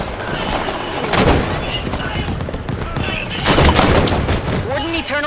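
Video game gunfire in two loud bursts of rapid shots, each a dense rattling volley, with a player's voice talking over it.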